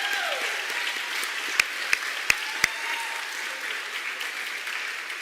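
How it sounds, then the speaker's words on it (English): A seated audience at an arts education awards ceremony gives award recipients sustained, even applause, with a few sharp louder claps standing out early on. "Let's have a round of applause for all of today's award recipients."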